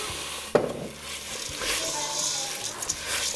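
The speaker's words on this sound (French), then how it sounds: "Vous allez arroser votre riz de vin blanc." Risotto rice cooking in a pan with white wine for a vegan pumpkin risotto sizzles and is stirred, a sharp clack of the spoon followed by ongoing scraping and bubbling hiss nearby.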